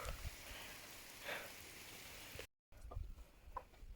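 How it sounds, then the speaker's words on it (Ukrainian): Steady rain falling outdoors after a dry spell, a soft continuous hiss with scattered louder drop patters, broken by a brief moment of silence before the rain sound resumes. "Дощ пішов."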